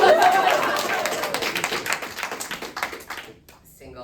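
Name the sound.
comedy show audience clapping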